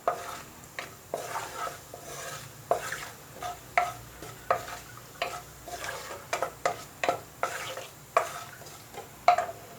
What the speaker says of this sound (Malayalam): അതിലേക്ക് നമുക്ക് 1 ടീസ്പൂണ് നല്ല ജീരകം ഇട്ട് കൊടുക്കാം